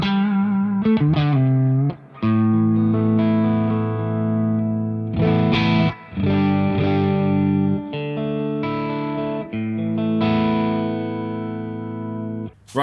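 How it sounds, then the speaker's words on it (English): Electric guitar played straight into amps with a gritty, crunchy overdriven tone plays a series of chords and short riffs, loud and close, with brief gaps between phrases. "So this is the sound of the guitar straight in."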